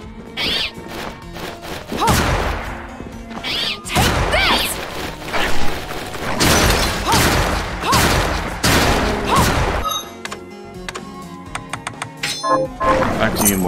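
Gunshots and combat effects from the video game Bloodstained, a character firing a gun in repeated loud bursts with crashes and booms over game music.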